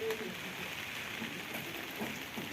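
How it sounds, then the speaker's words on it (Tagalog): Heavy afternoon rain during a typhoon falls steadily as a dense, continuous wash of noise at a construction site, with no other sound standing out. "Malakas na yung ulan."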